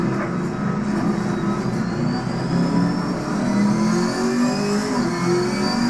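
Continuous loud engine drone with rising whine as a GT4 race car accelerates in Assetto Corsa Competizione on PS5, steady and close without pauses.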